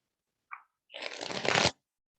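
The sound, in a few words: shuffling cards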